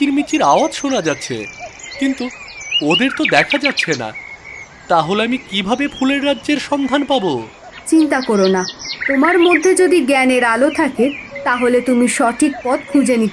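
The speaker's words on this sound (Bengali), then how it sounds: "এখানে তো শুধু পাখিদের কিচিরমিচির আওয়াজ শোনা যাচ্ছে, কিন্তু ওদের তো দেখা যাচ্ছে না।" Small birds chirp and tweet in a steady scatter of quick, high calls, mostly buried beneath continuous expressive speech from one or two voices.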